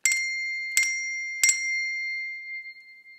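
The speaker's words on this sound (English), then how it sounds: "the sound of the bell, which we just play by pressing at the top" A small bell played by pressing its top rings three times in slow succession. Each strike is bright and close, and the last one rings on and fades into silence.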